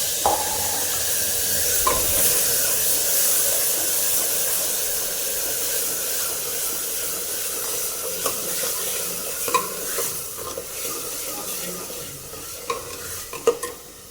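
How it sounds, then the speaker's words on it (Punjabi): A tadka of cumin, asafoetida and spices for chickpea curry sizzles and hisses steadily in hot oil, with occasional scrapes and clinks of stirring growing more frequent toward the end. "ਤੜਕਾ"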